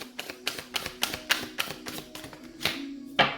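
A deck of tarot cards is shuffled by hand, producing a quick, regular series of crisp taps and clicks, about three per second, close by with no voices.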